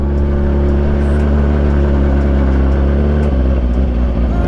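Moge motorcycle climbing a hill in third gear, the engine droning loud and steady close by, with a brief shift in tone partway through.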